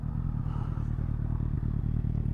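A Suzuki GSX-S 1000 motorcycle engine runs steadily and close by, a low throbbing idle with a faint mechanical clatter and no talk over it.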